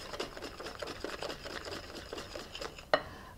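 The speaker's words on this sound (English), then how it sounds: "Then whisk together." Béarnaise sauce ingredients whisked together in a bowl: rapid, even scraping strokes of a whisk against the side, close and steady, ending with a sharp clink.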